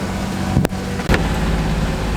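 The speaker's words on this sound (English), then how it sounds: "Oh, our engine's gonna cut out." Sailboat engine running rough in choppy water on a passage toward Charleston, a steady low drone broken by two sharp stutters as it nearly cuts out before resuming.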